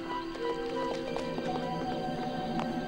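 Horse hooves clip-clopping in the Futurama PS2 video game, a run of light, evenly spaced taps over steady game ambience and music tones, fairly close and clear.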